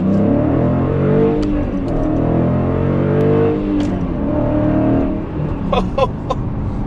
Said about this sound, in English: First gear pull around a small corner.